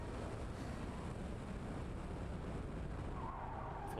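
Lancer Evolution accelerating at full throttle on an autocross course, heard as a steady, loud engine roar with heavy wind buffeting across the whole stretch and no talk.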